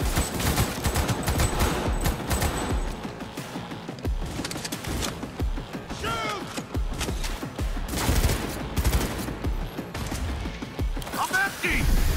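Sustained heavy gunfire in Cyberpunk 2077 fills the scene with rapid overlapping shots and mechanical clatter, while voices speak over it.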